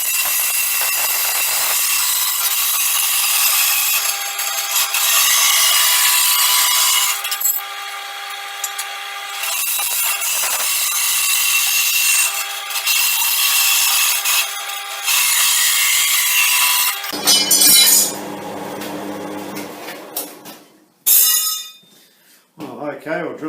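Machine light mount having its edges cut off on a bandsaw in a metalworking shop, a steady loud cutting whine running for most of the stretch and then shifting to a lower, rougher tone near the end, with a voice talking over it.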